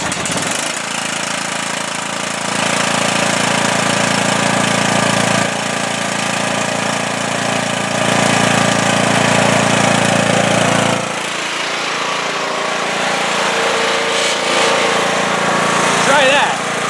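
A Cub Cadet riding lawn mower engine runs steadily at close range, a continuous droning hum that swells and eases slightly as it drives, with people talking faintly underneath.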